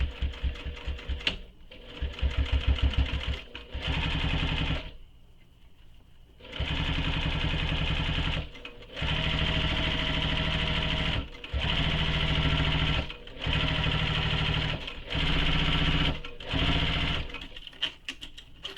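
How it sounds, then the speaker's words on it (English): A sewing machine top stitches a backpack seam in a series of rapid, loud whirring bursts, each running a few seconds, separated by short pauses and one longer quiet stretch while the fabric is adjusted. "So now I'm going to stitch this, top stitch this with the seam allowance given in the pattern."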